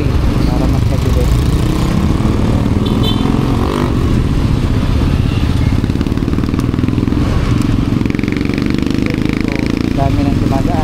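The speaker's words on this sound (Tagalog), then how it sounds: "Dami nang dumadaan, tricycle, motor, kotse, van." Busy Philippine street traffic with tricycles, motorcycles, cars and vans passing close by, a loud constant engine drone and clatter while a person talks over it.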